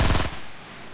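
A short burst of rapid automatic gunfire in Fortnite, loud and close, cutting off abruptly and leaving a faint decaying tail.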